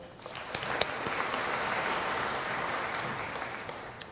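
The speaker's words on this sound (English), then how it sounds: "please give a round of applause to Inland's Sarah Power" Audience applause at a 2018 fashion runway show for George Brown College's THREADS, a steady wash of many hands clapping at moderate distance, filling the hall for about four seconds with no talk over it.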